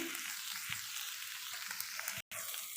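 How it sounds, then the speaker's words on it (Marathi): Fasting-style potato bhaji with grated fresh coconut being stirred in a hot pan, giving a steady bright sizzle with faint scraping of the spoon, close and continuous with a brief cut near the end. "परत एकदा मिश्रण एकजीव करून घेणार आहे"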